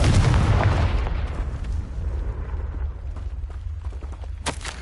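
A Confringo blasting spell goes off in Hogwarts Legacy, one loud booming explosion that decays over several seconds into a rumbling tail, followed by a sharp burst near the end.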